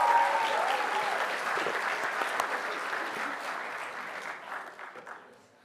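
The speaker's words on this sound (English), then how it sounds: "Give them a big round of applause because they've been carrying everything." Audience applause at the AUSNC22 closing ceremony, a dense wash of many hands clapping that starts loud and gradually thins and fades toward the end, with faint voices mixed in.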